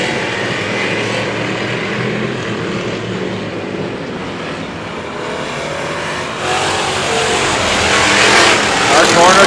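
Thundercars race cars roar into turn one at the Indianapolis Speedrome after a green-flag start, a dense wash of engine noise that swells louder toward the end.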